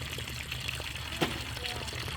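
Water runs steadily from a cut household plumbing pipe as it drains, a soft close trickle with a brief splash, under a speaking voice.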